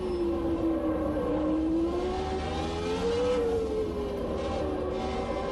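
A race car engine in the Automobilista 2 video game screams steadily at high revs toward its 14,200 rpm red line, a loud continuous whine with the pitch rising and dipping slightly through gear changes.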